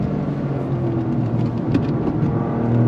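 Toyota GR Corolla engine pulling hard on a twisty road, a steady loud drone with wind and road roar and no talking, the revs holding strong throughout.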